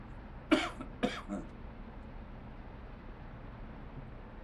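A man coughs inside a truck cab in a Euro Truck Simulator session, two sharp coughs followed by a softer third, close and clear above a low engine hum.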